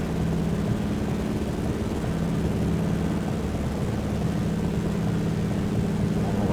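A DHC-2 Beaver propeller plane in Flight Simulator 2020 climbs under steady power, its engine droning in a loud, even low-pitched hum with a constant propeller throb and no talking.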